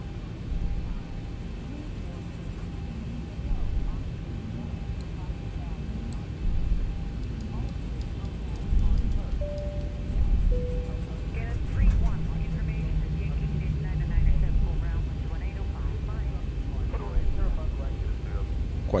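A Boeing 737-800 in X-Plane 12 runs its engines at takeoff power, a broad, steady roar with a low rumble that swells slightly over time, while someone talks over it in short bursts.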